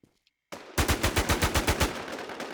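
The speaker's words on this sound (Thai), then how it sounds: "ผมเลยจะนอนรอยิงมันนะครับ" Rapid automatic gunfire in the shooter video game WarZ rings out close and loud as a quick, evenly spaced burst of about a dozen shots after a brief silence, with no speech.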